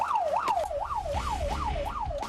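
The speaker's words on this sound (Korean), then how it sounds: "소방차 하대 출동합니다." A Korean fire truck on an emergency run sounds its siren, a wailing tone that rises and falls in a quick repeating sweep, loud and close over low road and engine rumble.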